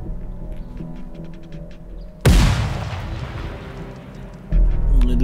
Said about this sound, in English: Think I can lob a grenade up there? I'll throw one.